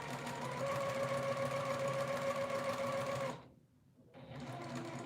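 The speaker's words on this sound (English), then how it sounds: "the important thing is that I'm sewing right now" Domestic sewing machine stitching an overalls front bib, a fast steady mechanical whir close up that stops briefly near the end and then starts again, with no talking.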